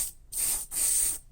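An airbrush sprays Tamiya clear acrylic paint in two close, steady hissing bursts, each under half a second long and separated by short silences.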